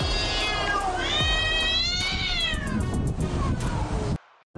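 Two cats meowing, yowling and caterwauling at close range as they play or fight, with loud overlapping wavering cries that stop abruptly at the end.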